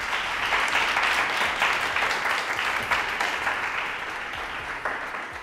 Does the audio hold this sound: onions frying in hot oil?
no